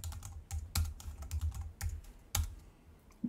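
Quick, uneven keystrokes on a computer keyboard enter a root password during an Arch Linux install, close and fairly quiet, with short pauses between bursts of typing.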